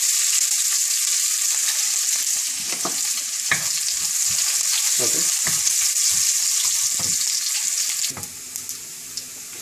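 Garlic fries in hot oil in a pan for a green curry, giving a loud, steady, close sizzle throughout with scattered light knocks and scrapes of stirring.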